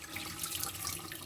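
Water poured onto soaked mung dal, a soft steady splashing trickle heard alone and faint at close range.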